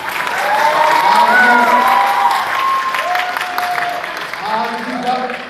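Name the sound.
audience applause at a rally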